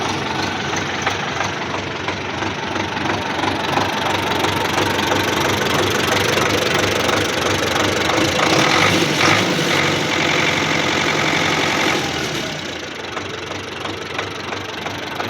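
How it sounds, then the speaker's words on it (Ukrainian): A tractor engine runs steadily with a rough, knocking clatter, loud and close, then eases slightly toward the end. "Трошки підгавкувати почав трактор."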